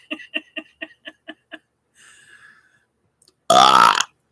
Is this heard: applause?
no